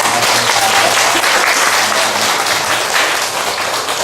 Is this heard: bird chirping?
no